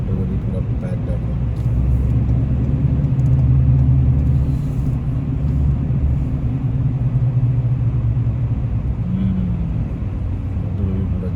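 Heavy, jammed motorway traffic crawls along on a Friday, a continuous low rumble of car and bus engines heard from inside a vehicle, with a person talking over it.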